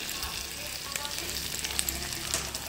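Batter sizzling in a hot pan just after pouring, a constant bright hiss with faint crackles close up and no talking.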